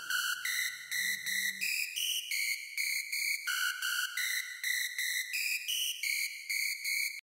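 Bright lead synth built in Native Instruments, playing a bouncy melody of short, evenly spaced notes, with a brief low accompaniment early on before the lead continues alone.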